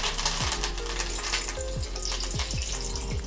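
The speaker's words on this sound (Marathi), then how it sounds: "आणि ही सुद्धा छान तळून घेऊया कडीपत्ता सुद्धा तळून झालेला आहे" Curry leaves frying in hot oil for a fasting makhana and potato chivda give a steady, close sizzle with bubbling crackle throughout and a few soft low knocks; no talking.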